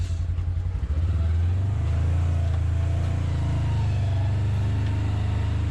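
A 2022 Polaris General Premium side-by-side runs close by, its engine and loud CVT transmission giving a steady, heavy drone that settles after a rougher first second.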